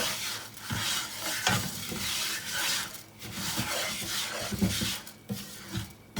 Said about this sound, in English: add 1 cup of rice. Stir it around, let the rice get fully coated with the butter and the flour.